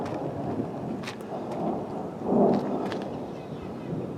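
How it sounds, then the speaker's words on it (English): Thunder rumbles low and distant during a windy mountain storm on a trail near a parking lot, swelling briefly over steady wind noise with faint sharp crackles. "We get a lot of these storms where you just get high winds and lightning and thunder and then it doesn't actually rain."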